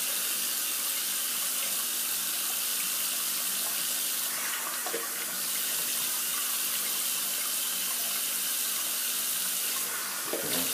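Tap water runs steadily into a sink while a freshly shaved face is rinsed, a loud, constant close-up hiss with brief splashing changes near the middle and end, no voices.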